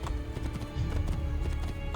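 A horse galloping in the video game Assassin's Creed II: quick, steady clip-clop hoofbeats over a continuous low rumble at moderate level, with no talking.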